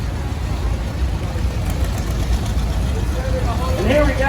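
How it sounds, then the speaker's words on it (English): A 1969 Ford 2000 utility tractor, rescued from the scrap pile, runs in an antique farm machinery parade at a county 4-H fair with a steady, close low engine rumble; a voice speaks over it near the end. "1969 Ford 2000 utility tractor driven by Mr. Charlie Dawson"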